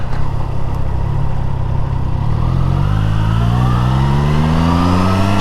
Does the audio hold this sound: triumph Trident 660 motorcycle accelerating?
yes